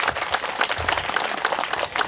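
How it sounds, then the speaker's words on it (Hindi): An audience claps to welcome MLA Jiyalal at a village panchayat event, a steady, dense patter of many hands that holds at a moderate, even level throughout. "एक बार फिर से जोरदार तालियों की गड़गड़ाहट से इनका स्वागत किया जाए"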